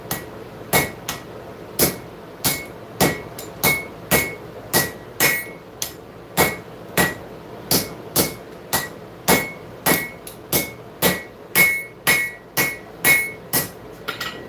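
Hammer forging a knife blade on an anvil: a long, steady series of loud, ringing metallic strikes close by, evenly paced at roughly one blow per half second with no talking.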